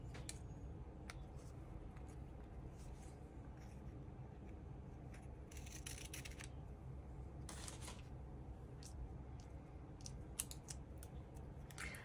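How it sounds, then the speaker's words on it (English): A sheet of mica trimmed with scissors while crafting an index card book, giving a few brief crisp snips and clicks, faint and close, over a steady low background hum with no talking. "I need to trim the mica just a tiny bit."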